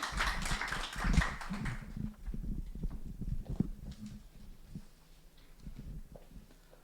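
Members at a residents' council founding assembly burst into loud, dense group applause that swells at first, then thins into scattered claps before fading out.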